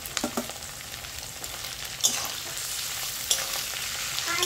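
Meat pieces frying with browned onions in a pan, a steady close sizzle with a few sharp clinks and scrapes of stirring, and no one talking.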